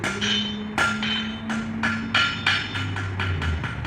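A blacksmith hammers the toe of a scarf thin on an anvil, ringing metallic blows landing at a quick, fairly even pace about every third of a second, close and loud over a low background hum.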